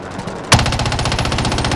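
Rapid, loud machine-gun fire in the battle-royale video game Call of Duty Warzone, a sustained automatic burst that starts abruptly and continues steadily to the end, with no talking over it.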